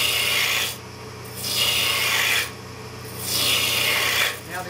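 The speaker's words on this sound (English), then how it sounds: "Now to form this taper on the bottom of the leg, you start down when you take off the majority of the material" A chisel on a lathe turns a taper on a wooden chair leg, making three long rasping, shaving sweeps with short gaps between them over a steady motor hum.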